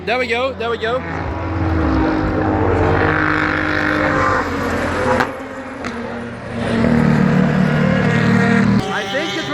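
A loud race car engine roars past up close at Le Mans, rising and falling over several seconds amid crowd noise and chatter.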